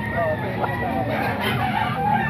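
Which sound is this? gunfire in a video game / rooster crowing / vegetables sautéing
rooster crowing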